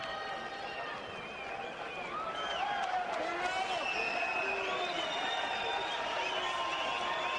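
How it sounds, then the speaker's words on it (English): A boxing arena crowd at a Camacho vs. Duran fight whoops and hollers in a steady, dense roar with scattered shouts and whistles, loud and continuous throughout. "the crowd still whooping and hollering it up here"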